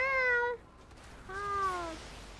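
A cat meows twice, each call a clear rising-falling cry about half a second long, separated by a short pause, close and fairly loud with no other sound.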